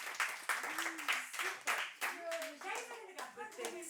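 Children of a school group clap and applaud at a Swiss music show, a short burst of irregular, fairly close hand claps mixed with bright young voices calling out over it.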